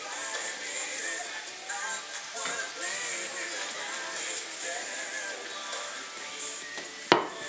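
Fish sizzling steadily in a frying pan of hot oil, a continuous crackling hiss throughout with a brief sharp clatter near the end.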